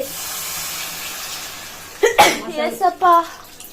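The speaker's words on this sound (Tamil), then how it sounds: "தும்மல் வருதுப்பா நெடி ஏறுதுப்பா" A sneeze brought on by pungent masala fumes while cooking a seafood curry of stingray and crab, a sharp burst after a quiet stretch, followed by brief close voice sounds and a clatter.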